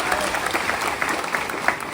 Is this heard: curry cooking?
no